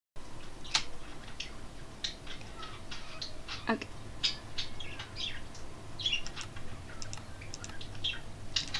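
Pet birds indoors give scattered chirps and harsh squawks, some loud and close, over a steady background hiss of room noise, with no talking.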